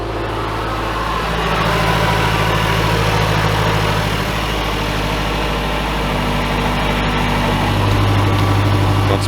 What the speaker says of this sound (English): That was a quick cold start, given it is the summer